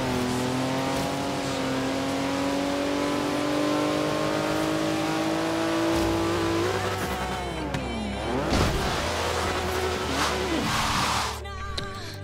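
A Porsche engine revs and drives in the racing video game Forza Horizon 3, a sustained loud drone rising in pitch with gear shifts, then rougher bursts and skidding near the end.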